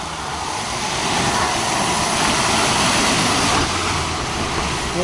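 A Nissan SUV pushes through deep mud on a rural track, its engine straining in a loud, continuous roar close by, rising slightly in the middle before easing, with no talking.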